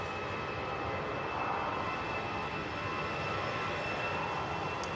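An EasyJet Airbus A320ceo jet departs Manchester Airport bound for Oslo, its engines a steady, distant, broadband roar with a thin high whine, heard alone and buffeted by wind.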